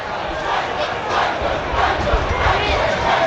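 At an FA Cup match between Eastleigh and Boreham Wood, a football crowd roars and jeers in disapproval, a broad, sustained wall of voices swelling and falling.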